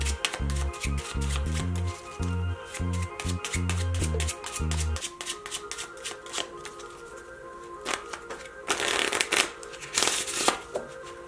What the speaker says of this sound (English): We're gonna take a deck of cards and we're gonna shuffle it the way we wanna shuffle it.